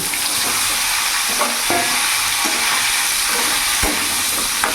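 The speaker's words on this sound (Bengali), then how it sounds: "এরই মধ্যে ভাপানো ফুলকপিগুলো দিয়ে দেবো" Steamed cauliflower hits hot refined oil with salt and turmeric in a wok, giving a loud, steady frying sizzle with faint stirring knocks and no talking.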